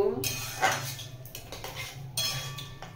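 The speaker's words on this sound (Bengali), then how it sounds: "এবার কর্নফ্লাওয়ারের জলটা দিয়ে দেব। ভালো করে মিশিয়ে নেব।" Cornflour water is stirred into chilli paneer in a pan, with a spoon or spatula scraping and clinking against the metal in uneven strokes, close and moderately loud, with no talking.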